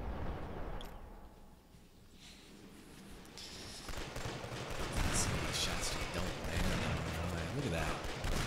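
Gunfire in the video game Killzone 2, a dense, noisy crackle of shots that builds in the second half, heard without talk.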